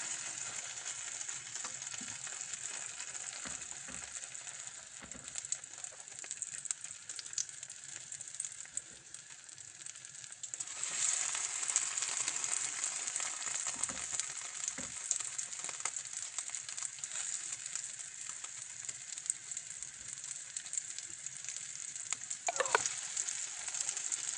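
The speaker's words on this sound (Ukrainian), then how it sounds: "І жаримо." Deer horn and chicken-of-the-woods mushrooms coated in flour frying in a pan, a steady hiss of sizzling oil that grows louder partway through, with a few faint clinks and no speech.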